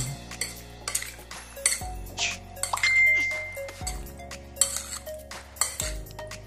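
Cucumber tuna salad being mixed in a bowl: repeated clinks and scrapes of a utensil against the bowl in an uneven rhythm, close by, with low hum in the background.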